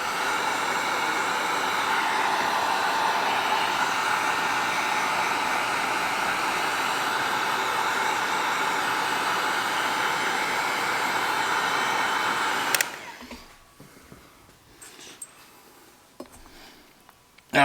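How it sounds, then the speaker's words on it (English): Heat gun blowing hot air onto a hose end to soften it for sliding over a barb fitting during a Radium PCV catch can install on a Ford Focus ST; a steady, loud broadband whoosh runs about twelve seconds, then cuts off, leaving faint handling clicks. "So we're going to heat this barb up, or this hose up, so it slides on this bar a lot easier."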